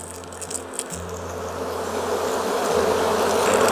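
Honey bees swarm around an open beehive, a dense steady buzzing hum that grows slightly louder and fuller, close by, with a faint low rumble beneath.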